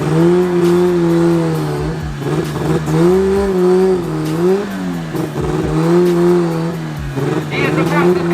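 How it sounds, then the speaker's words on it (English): A four-cylinder drag race car accelerates hard down a track, its engine rising through gears in a loud, sustained roar with short dips at each shift, while a commentator talks over it. "He is the fastest car on track today."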